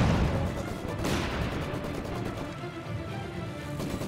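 Battle gunfire in Company of Heroes 2, a dense crackle of rifle and machine-gun shots with dull booms, steady and mid-distance throughout.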